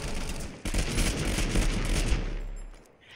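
Sustained rapid bursts of submachine gun hip fire from the MP40 in the video game TABG, loud and dense for about two seconds before cutting off into quiet.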